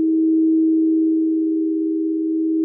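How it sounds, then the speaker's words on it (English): A pure, steady solfeggio healing tone in a sound bath holds one unwavering pitch, loud and alone with no other sounds. "a collection of 6 specific tones, believed by some to have both spiritual and healing properties"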